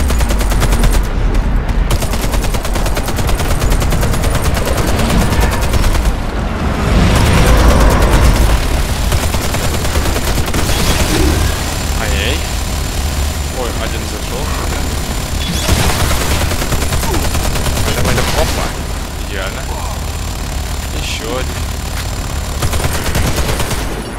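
Heavy automatic gunfire in the shooter game Warface, loud sustained bursts of rapid shots with short pauses between volleys, dense and close.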